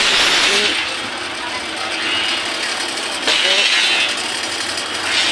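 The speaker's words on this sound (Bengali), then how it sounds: "মেশিন দিয়ে রড কাটতেছে" A machine cuts thick steel rods at a building construction site in Kerala, giving a loud, continuous harsh mechanical grinding and rattling that swells and fades, with a voice talking over it.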